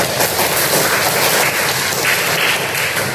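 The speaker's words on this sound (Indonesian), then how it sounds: "Tepuk tangan dulu." Audience applause in a university lab session during a teacher certification program, a steady dense wash of clapping held loud and even throughout with no voices over it.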